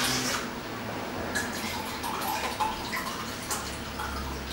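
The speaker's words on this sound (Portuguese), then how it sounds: "a gente vai colocar aqui basicamente 2 copos de vinho, copo de 200 ml," Wine poured into yeast dough for a wine biscuit, a soft liquid trickle with drips and gurgles running steadily at moderate level, no talk.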